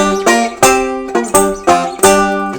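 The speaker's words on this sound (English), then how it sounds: "It's called a power chord, and it's just a root and a 5th and another root." Guitar power chords of root, fifth and octave root struck about five times in a loose rhythm, each chord ringing briefly before the next, loud and close with no talking.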